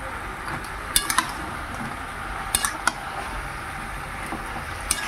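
Vegetable curry with Malabar spinach, mustard and green chili paste is stirred in a pot, giving a soft, wet scraping with a few sharp metallic clinks of the spoon against the pan, quiet and without talk.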